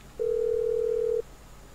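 A single steady electronic phone tone sounds for about a second in GTA 5 as a call is placed to detonate a bomb, clear and alone over quiet background.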